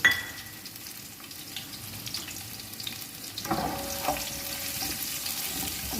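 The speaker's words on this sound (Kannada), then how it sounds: "ಎಣ್ಣೆ ಹಾಕ್ಕೊಡ್ತಾ ಇದ್ದೀವಿ ಕಾದಿರುವ ಎಣ್ಣೆಗೆ ಬೆಳ್ಳುಳ್ಳಿ" Garlic is frying in hot oil, giving a steady quiet sizzle that grows busier partway through as stirring begins, close by and without talk.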